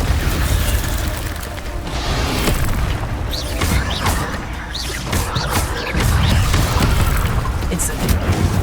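Incendio fire spells cast again and again in the video game Hogwarts Legacy, giving repeated booming, bursting blasts over a dense, busy mix of game sound effects.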